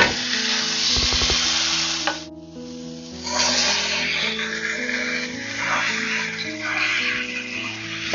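Ground beef frying in two tablespoons of saved bacon grease over medium-high heat gives a steady, fairly loud sizzle throughout, with a short dip partway, over a background of tonal music.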